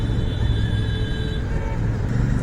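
A hubless Royal Enfield motorcycle rides over a rough, broken road, giving a steady, loud low engine rumble with road noise and a faint high whine throughout, with no voices.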